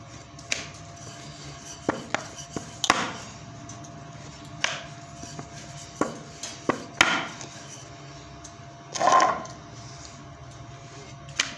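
A rolling pin rolls out spinach paratha dough on a board, with scattered soft wooden knocks and taps and a brief rubbing roll. The sound is close and fairly quiet, with no talking.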